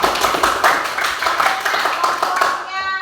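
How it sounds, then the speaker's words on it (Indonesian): A class of schoolchildren in an Indonesian classroom clapping for a classmate: loud, close, rhythmic group clapping in quick repeated bursts, fading out as a voice rises at the very end. "Tepuk tangan buat Nana"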